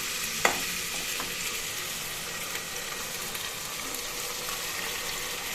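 A sizzling pan hisses steadily as a spoon scrapes and stirs ground masala for chickpea and mung bean sambar, with one sharp clink at the start; close and continuous, no voices.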